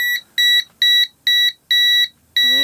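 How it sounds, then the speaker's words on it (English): A natural gas leak detector set off by a barbecue lighter, emitting a run of six loud, shrill electronic beeps in a steady pulsing rhythm, close and clear with no talking. "the alarm goes off"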